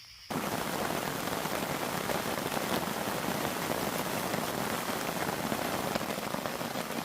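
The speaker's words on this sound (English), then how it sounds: "You can start to hear the raindrops hitting the tarp." Steady rain patters on a camping tarp strung over a hammock at night, a dense, continuous hiss of drops close overhead with no voices.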